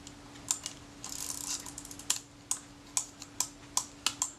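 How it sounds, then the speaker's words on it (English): A Retina IIIC camera with a faulty shutter is cranked repeatedly and fails to stay cocked, giving a close, dry series of sharp mechanical clicks and brief winding rasps in an otherwise quiet room. "go to crank the shutter and it doesn't actually cock. You can hear it just opening again as the thing winds back"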